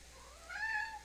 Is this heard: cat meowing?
yes